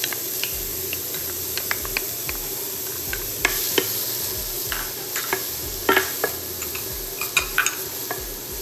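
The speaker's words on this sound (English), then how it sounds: "we're gonna add our onions first. See that sizzle?" Onions and carrots sizzle in a pan on an induction cooktop, a steady hiss from the hot oil with scattered clinks and scrapes as the vegetables are stirred, close and moderately loud.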